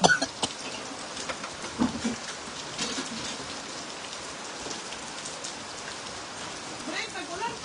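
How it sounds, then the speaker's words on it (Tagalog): Steady rain pattering on a surface, a broadband hiss with scattered drops, with a few faint bird chirps in the background. "Ayan na naman ang ulan."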